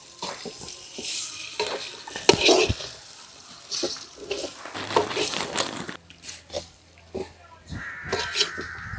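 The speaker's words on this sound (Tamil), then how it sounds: "இதை அடி பிடிக்காம கிண்டிக்கிட்டே இருக்கணும்" Beef chettinad is stirred in a pan with spices, giving irregular spoon scrapes and light clatter over a soft sizzle, some strokes louder and close.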